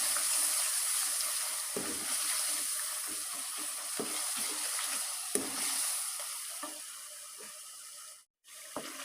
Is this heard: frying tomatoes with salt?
yes